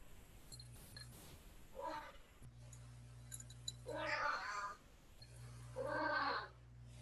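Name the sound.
cat meowing in the background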